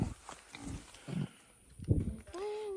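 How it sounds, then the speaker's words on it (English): Pigs at a farm pen in Samoa, with low grunts and squeals in short bursts close by, mixed with people talking and greeting the animals. "This is where the buas, so the pigs, are here."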